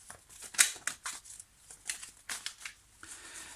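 Tarot cards being shuffled by hand, a series of short soft riffling and slapping bursts close to the microphone, fairly quiet, with no voice.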